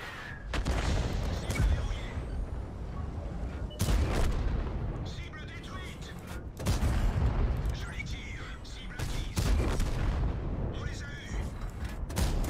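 Repeated explosive bursts of gunfire and booms from a fast video game battle, loud and near, in several heavy clusters with rumbling decay between them.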